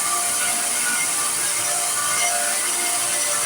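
Grinding and sanding an epoxy handle: a steady, loud, rasping abrasive hiss from a power grinder runs continuously and close up, with no pauses and no voices.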